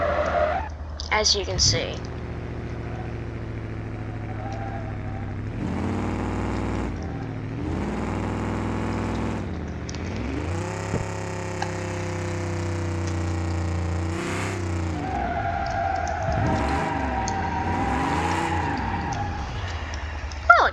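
A car without ABS skids and spins around, its engine whining and revving up and down over a steady low drone, with tire squeal mixed in and a person talking throughout.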